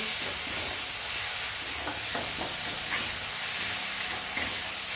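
Vegetables for veg khima sauté in a pan, a constant close frying hiss with intermittent spatula scrapes and soft knocks as they are stirred.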